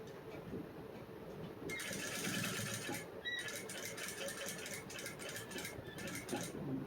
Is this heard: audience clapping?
no